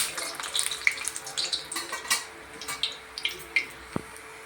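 Murukku dough dropped into hot oil, a soft bubbling fry with scattered pops and crackles, plus a brief knock near the end.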